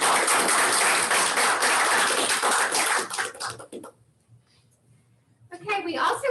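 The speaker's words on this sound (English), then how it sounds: "So let's give them all a round of applause." Loud audience applause at a county schools board of education meeting for student representatives, dense clapping for about three seconds before fading into quiet, then a few voices and sounds returning.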